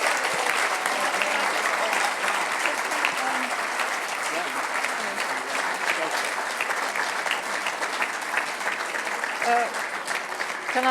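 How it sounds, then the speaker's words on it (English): An awards-dinner crowd at the Royal Automobile Club applauds the HERO Cup champion driver, a steady wash of clapping from many hands filling the room throughout. "Round of applause for this wonderful driver"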